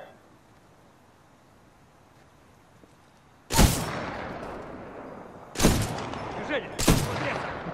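Three loud, sharp sniper rifle shots in Titanfall 2 ring out at uneven intervals after a quiet stretch, each with a booming, echoing tail.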